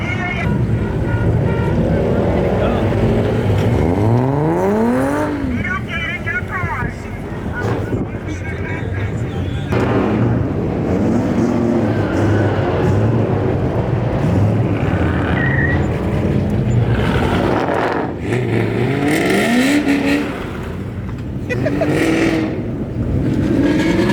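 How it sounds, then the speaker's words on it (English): Car doing a burnout at a street car meet, engine revving hard and roaring in the distance amid crowd noise, with people talking loudly nearby throughout. "So there's a burnout going on back there"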